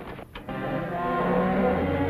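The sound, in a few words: cattle mooing from a television program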